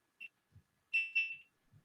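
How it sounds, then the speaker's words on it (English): A GoPro camera lying on a table gives a few short electronic beeps: one quick chirp, then a longer two-part beep, clear and close in an otherwise quiet room. "my GoPro just started beeping at me"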